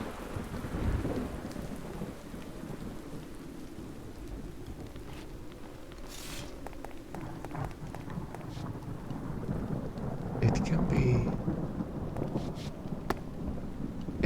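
Steady rain patters in Minecraft while thunder rolls in the distance, a low rumble swelling near the start and a louder crack and roll toward the end over the constant downpour.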